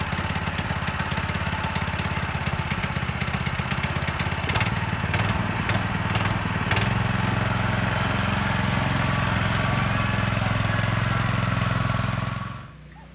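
A mini monster truck go-kart's small engine runs steadily and loudly, a constant buzzing drone with a brief rev partway through, then cutting off abruptly near the end.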